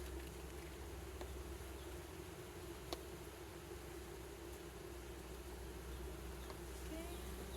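Honeybees hum softly in a low, continuous drone while a package hive is installed outdoors in Marquette County, Wisconsin, with a faint click or two over the steady buzz.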